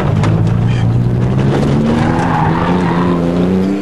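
A car drifts sideways in illegal street drifting, its tires skidding and screeching beneath a loud, revving engine whose pitch climbs steadily, close and continuous throughout.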